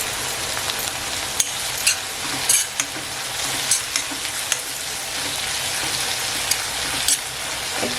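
Coriander leaves sizzling in a hot tempering for Bombay duck kheema, a continuous crackling fry close by with scattered sharp pops and occasional spatula clinks, no speech.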